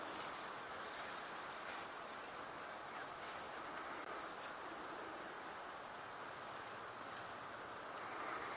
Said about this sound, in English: can just hear that wind